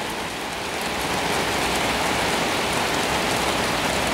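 Steady rain pouring down, a dense continuous hiss of drops hitting surfaces, loud and close with no pauses or voices.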